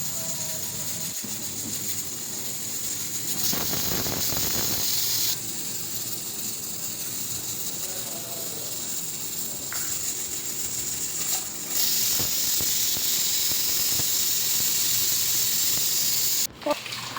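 A pressure cooker steams and hisses on the stove while lamb leg soup cooks, a long continuous hiss with louder surges and brief breaks, close and alone without talk.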